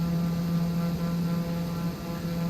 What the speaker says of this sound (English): I can see a helicopter fly by here.